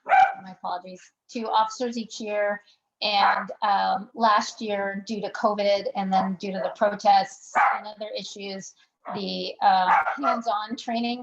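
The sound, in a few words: dogs barking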